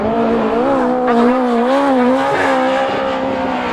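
Autograss race cars slide sideways on a dirt track, engines roaring loud and close with warbling revs that shift throughout as the cars power through the corner.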